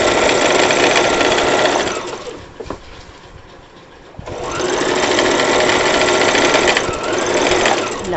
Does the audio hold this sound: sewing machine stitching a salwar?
yes